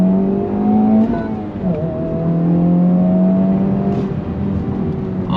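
A loud 2023 Honda Civic Type R engine revs hard in second gear nearby, its pitch climbing and dipping between 3,000 and 3,500 rpm as the throttle opens, a sustained growling roar.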